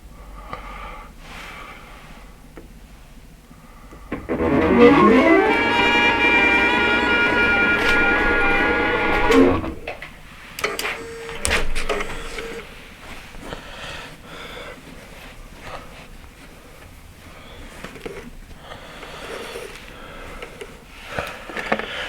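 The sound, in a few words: embroidery machine sewing a design with thick thread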